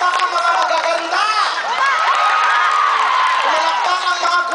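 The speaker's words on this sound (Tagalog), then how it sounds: "Palakpak ang mga magaganda." A variety-show audience claps and cheers loudly and steadily, with whoops and shrill shouts rising over the dense crowd noise.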